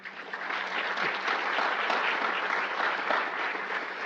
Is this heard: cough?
no